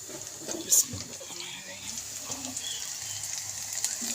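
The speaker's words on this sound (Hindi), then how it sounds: "तड़का रेडी है। अब इसको मैं दाल में लगाऊंगी।" Hot oil tempering hisses and sizzles as it is poured into cooked mixed lentils, with a sharp burst at first, then a steady crackling hiss.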